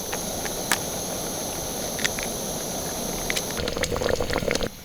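Butter chicken simmer sauce with water bubbles on a camp burner, a steady close boiling hiss with occasional pops and spits, alone without talk.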